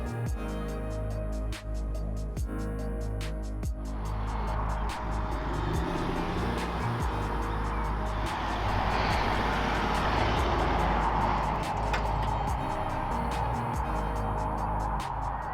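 A 2021 Land Rover Discovery D300 SUV on the move, its engine and road noise forming a steady broadband rumble that swells after a few seconds and stays loud and continuous throughout.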